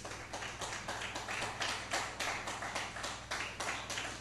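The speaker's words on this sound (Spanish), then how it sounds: "Denle un aplauso fuerte al Señor." A church congregation claps in a rhythmic, unison beat during a Spanish-language worship service, a regular pulse of sharp claps over a faint low hum, with no talk.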